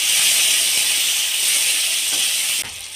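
Chopped tomato hits hot mustard oil with bay leaf and whole cumin, a loud, dense close-up hiss of frying that holds steady, then drops suddenly near the end.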